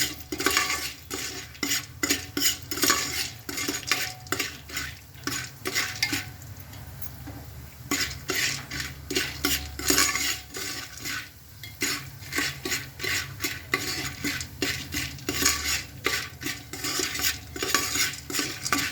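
Raw corn kernels are stirred around a dry pan for homemade popcorn, giving a busy, continuous rattle and scrape of kernels and utensil against metal, with close, rhythmic strokes throughout.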